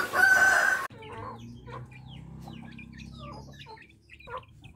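Free-range village chickens in Indonesia: a loud rooster crow opens, then a cluster of hens keeps clucking and squawking nearby over a low background hum.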